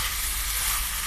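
Mutton curry with potato and tomato sizzles steadily in a hot pan as it is stirred, a dense, even hiss with no distinct knocks.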